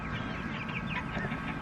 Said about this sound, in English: So there's the meat birds.